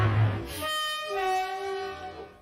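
A train horn sound effect played on a gaming podcast, a loud, sustained multi-tone blast with a rising, sliding pitch, heard alone for about two seconds.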